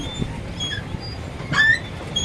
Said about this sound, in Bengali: তার সাইড দিয়ে হচ্ছে ট্রেনের, এই যে ট্রেনের ব্যবস্থা দেখুন।